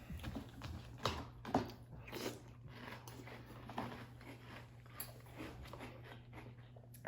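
Close-up crunchy chewing of Post Oreo O's cereal repeats in an irregular rhythm over a low, steady background hum, fairly quiet and without any speech.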